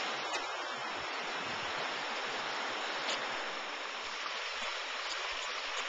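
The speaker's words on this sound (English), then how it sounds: "The stream comes out of Gunung Gede Pangrango National Park and into this irrigation channel." A continuous rushing stream of water flows steadily into an irrigation channel near Gunung Gede Pangrango National Park, a dense even roar with occasional small splashes, no voices.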